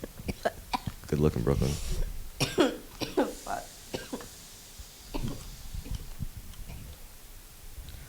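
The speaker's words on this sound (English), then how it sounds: "you're really coughing out a lung there" A person coughs in several rough, hacking bursts, loud and close, with short breaths and throat clearing between them, and someone speaks briefly among the coughs.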